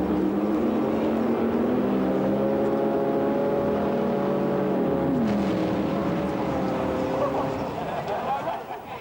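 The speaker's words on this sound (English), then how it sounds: "Drag races last seconds rather than hours, but these noisy sprints packed in the crowds." Drag racing cars sprint side by side from a standing start down a quarter-mile straight, producing a loud, sustained engine roar with a rising pitch sweep midway before it gradually tapers off.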